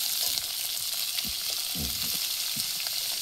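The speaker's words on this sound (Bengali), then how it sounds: "আলু ভাজা চলছে, একটু নুন দিয়ে দাও।" Potatoes fry in hot oil with a steady, dense sizzle filling the whole clip, broken by a few soft stirring knocks and scrapes, close and fairly loud with no talking.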